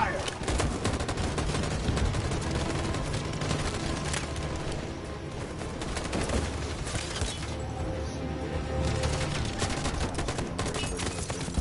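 Dense, continuous gunfire in a video game battle, with rapid machine-gun bursts and sharp shots layered into a loud, unbroken din that lasts the whole stretch.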